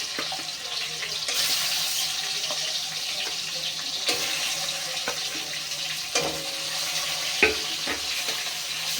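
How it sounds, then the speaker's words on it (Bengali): Hilsa fish pieces frying in hot mustard-style oil with black cumin and green chillies, a steady close hiss and sizzle with occasional soft clinks and stirring bumps, no voices. "এবারে এই মাছগুলো তেলের মধ্যে দিয়ে দেবো।"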